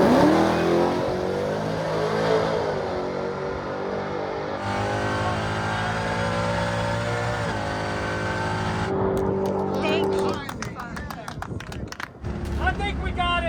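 A Dodge Demon-powered truck launches hard, its engine roaring loud and close as it climbs through the revs, with a sharp gear change and a rougher, choppy burst near the end.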